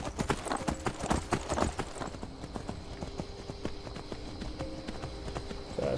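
Rhythmic clip-clop of horse hooves galloping in Skyrim, a fantasy role-playing video game, steady and close throughout with a faint whinny-like tone partway through.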